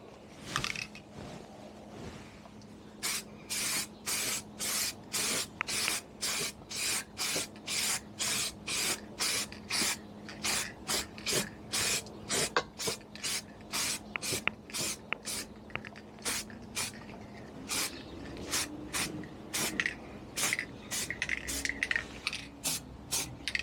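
Short bursts of clear coat sprayed onto the panels of a Honda Stream / Gyro scooter during restoration, a steady series of hissing puffs repeating close by with a low hum running underneath.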